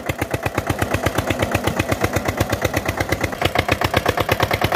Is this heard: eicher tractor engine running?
yes